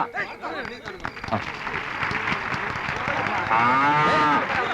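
Several cows moo loudly and repeatedly at a public handover of cows, long drawn-out calls overlapping one another, with a busy crowd of people talking throughout.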